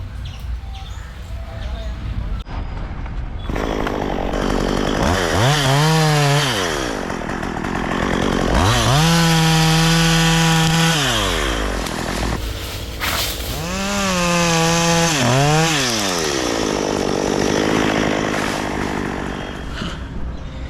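Chainsaw cutting a tree in a village, loud and near throughout, its engine repeatedly revving up and falling back as it bites into the wood.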